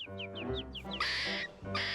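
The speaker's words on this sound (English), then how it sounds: "the birds kept noisily chirping" Cartoon birds in a tree chirp noisily in a quick run of repeated descending whistle-like calls, followed by louder, harsher squawking bursts, close and busy.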